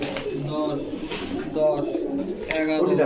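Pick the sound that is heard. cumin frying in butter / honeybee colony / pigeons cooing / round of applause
pigeons cooing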